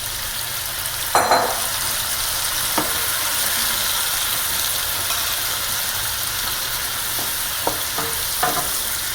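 Shrimp sizzles steadily in a hot pan with zucchini for shrimp scampi, a constant close hiss broken by a few clinks and stirs of a utensil.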